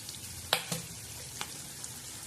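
Spices sizzling and frying in hot tempering oil with small bitter gourds, a steady low hiss punctuated by a few sharp crackles and pops, close and alone.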